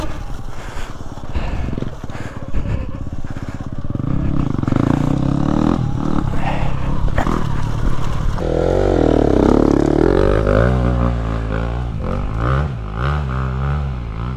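A Sur Ron or KTM SX 250 dirt bike engine throttles up and down while riding off-road, its pitch rising and wavering with clattering and scraping, loud and close.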